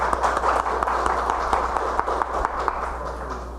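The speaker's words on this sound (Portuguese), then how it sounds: "Uma salva de palmas, né?" A lecture audience applauds a speaker with a dense patter of many hands clapping that holds steady and then tapers off slightly toward the end.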